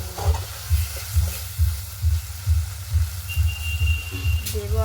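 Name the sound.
masala with goat fat frying in oil while stirred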